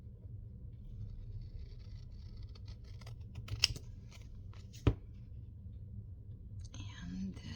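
Scissors snip through paper along a pencil mark, a few quiet, brief cuts over a steady low hum, with faint whispered voices in the room.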